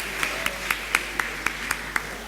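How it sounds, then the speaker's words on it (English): Scattered, evenly spaced claps, about eight of them and fairly faint, follow a cultural performance at an International Students Day event, with no voices. "Please give them another huge round of applause."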